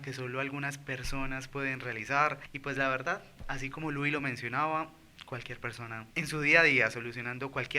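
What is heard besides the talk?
None of the usual background noises is heard.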